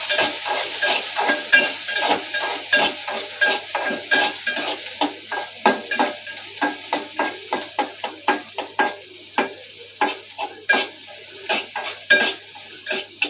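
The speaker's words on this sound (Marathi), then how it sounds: "भेंडी भाजताना ना हे करायचं नाही, तेल नाही घालायचं" Okra being dry-roasted without oil in a pan for a Malvani-style bhendi bhaji, stirred with a spatula: a steady sizzle under repeated scraping and clinking strokes, close and fairly loud, no talking.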